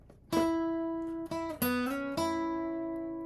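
A lone guitar plays the lead line from measure 40, with clean plucked notes, a slide between two pitches and sustained ringing, moderately quiet and close.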